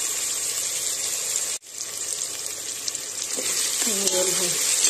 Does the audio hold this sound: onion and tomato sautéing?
yes